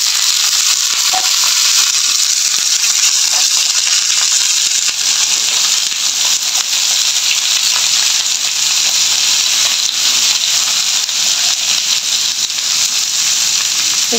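Sweet gourd pieces hit a pan of fried onions and set off a loud, dense, continuous sizzle that stays even and close throughout, with no voices.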